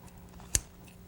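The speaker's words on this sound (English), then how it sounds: "You'll notice as I clip, I'm not taking much off." Scissors make a single close, crisp snip while trimming the yarn loops of a hooked rug, with quiet background before and after.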